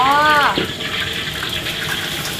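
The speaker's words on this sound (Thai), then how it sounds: "ครับพอน้ำมันร้อนเราก็ใส่ลงไปในกระทะเลยฮะ" Food is dropped into a pan of hot oil in a Thai hotel kitchen and sizzles in a loud, steady hiss, with a brief voice at the start.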